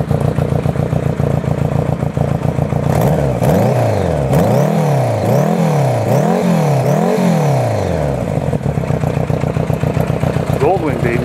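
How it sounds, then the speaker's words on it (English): A 1983 Honda Goldwing cafe motorcycle engine idling, then revved several times in a row in rhythmic rising-and-falling surges, loud and close before settling back to idle. "You rev it up a little bit, see what you think."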